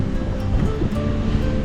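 Ocean waves roll against the rocky coast of South Batan in Batanes, a loud, continuous wash of surf close by, with wind buffeting the microphone.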